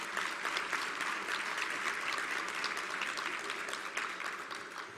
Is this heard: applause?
yes